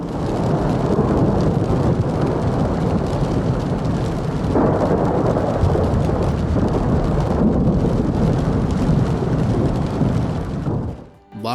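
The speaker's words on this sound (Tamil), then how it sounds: "சவுதி அரேபியாவில் இடி மின்னலோட பதிவு செய்யப்பட்ட மழை காட்சி." Loud, constant roar of a storm in Saudi Arabia, with heavy rain and low rumbling thunder filling the air, swelling slightly before cutting out at the end.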